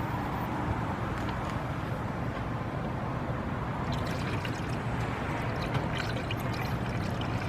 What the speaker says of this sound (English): as you're pouring the antifreeze in, you can actually hear air seeping out